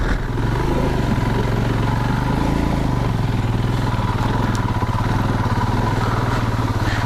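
A Royal Enfield Himalayan motorcycle engine thrums loud and close on a wet, muddy UK trail, its steady pulsing note rising and falling slightly as the bike moves, with no talk over it.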